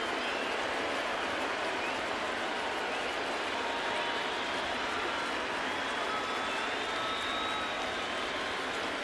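Stadium crowd at a Red Sox baseball game cheering and making noise for strike three: a steady, loud wash of cheering, clapping and roar that holds throughout without letup.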